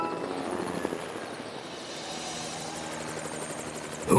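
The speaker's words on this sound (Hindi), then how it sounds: "अब एक हेलीकॉप्टर में बदल जाओ।" Cartoon helicopter sound as an animated character transforms into a helicopter, a steady whirring rotor drone held for several seconds with no talking.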